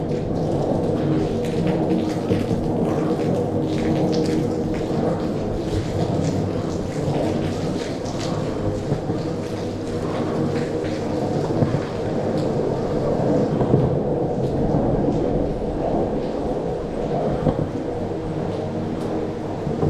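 Heavy rain pours down before dawn at 4:30 am outside, a dense, steady broadband roar with wind buffeting the microphone, continuous and loud for the whole stretch with no voices.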